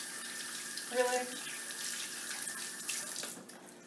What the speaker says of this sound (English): I'm going to rinse our hands off.